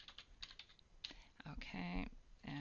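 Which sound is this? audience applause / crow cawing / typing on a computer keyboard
typing on a computer keyboard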